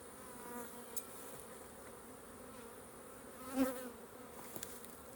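Honeybees drone steadily close by while a nuc is installed into a backyard hive, a continuous buzzing hum with a few louder passes of individual bees near the end.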